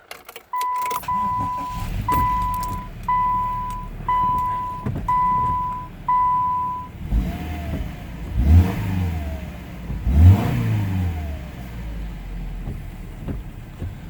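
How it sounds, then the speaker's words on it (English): A 2014 Subaru Outback is started with a run of chimes, then the engine catches and idles before two sharp revs rise and fall, close and loud. "I'll start it up so you can hear it."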